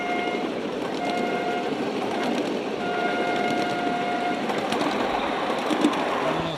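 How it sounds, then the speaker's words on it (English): A short, high-pitched horn sounds in a few brief toots over steady rumbling rail noise from a moving train. "Here comes the horn."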